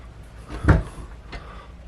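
Cabin drawer in a two-person stateroom aboard the Symphony of the Seas cruise ship, a single close wooden slide and soft thump, followed by a fainter second knock in a quiet room.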